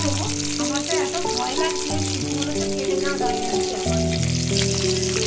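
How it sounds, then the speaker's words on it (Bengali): Pabda fish frying in hot oil after being flipped, a continuous close sizzle with light spatter, alongside a continuous tonal, music-like background. "দেখো আমি মাছটা খুব সাহস করে আর কি উল্টিয়ে দিলাম একটি ভালোই ভাজা হয়ে গেছে"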